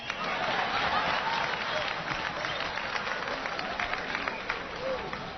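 A studio audience breaks into steady applause and cheering, loud and continuous throughout with scattered whoops and voices mixed in.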